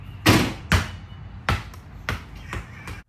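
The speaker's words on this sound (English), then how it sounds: "We got a basketball and tossed it at the face of the unit" A basketball is thrown repeatedly against the front of an EVIQO Level 2 EV charger wall unit, giving about six sharp, close, hollow thumps spaced roughly half a second apart with no other sound between them.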